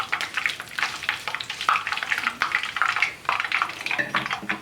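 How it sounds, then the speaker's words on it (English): Kaffir lime leaves fry in a hot pan with a busy, crackling sizzle, stirred around so that scrapes and clatters cut through the spitting oil, close up. "we don't want to fry them till they go bitter"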